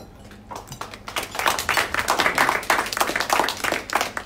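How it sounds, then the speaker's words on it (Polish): Audience applause at a Sail Calisia sailing talk evening on the Sydney to Hobart race, dense clapping that starts after a quiet second and holds steady and fairly loud through the rest of the stretch. "Brawa."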